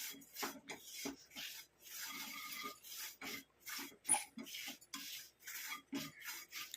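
Amla powder is stirred and roasted in a pan, making quiet, repeated scraping and rubbing strokes in an irregular rhythm, close by and alone.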